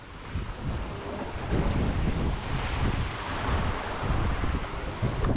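Strong, steady wind roars across the microphone aboard a Mini 6.50 racing sailboat at sea, with a constant rushing wash of water beneath it.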